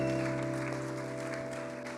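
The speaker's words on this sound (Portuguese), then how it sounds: "eu vou pedir uma salva de palmas para o nosso amigo" Congregation applause during a Saturday church service, a steady, moderately loud wash of clapping sustained throughout over a constant organ-like tonal hum.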